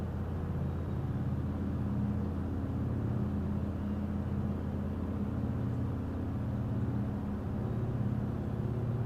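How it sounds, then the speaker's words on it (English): A BMW race car engine in Gran Turismo 7 roars with loud, constant induction noise, a dense unbroken drone with no gaps or pauses. "I think specifically the BMW has like a lot of induction noise."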